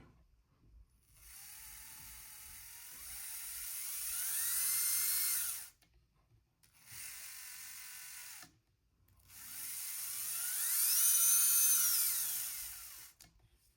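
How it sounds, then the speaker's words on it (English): An Axial SCX30 RC crawler drivetrain fitted with a full metal Injora transmission and aluminum skid plate runs in two bursts, a high whirring motor whine that rises and falls in pitch, with a short pause between runs and no talking. "Now it has a full metal Injora transmission."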